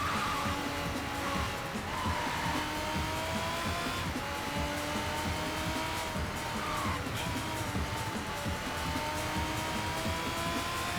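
A race car engine in the video game Sega GT Online drones steadily and loudly throughout, its pitch climbing and dropping with gear changes and acceleration, with a faint hint of tyre squeal and no talking.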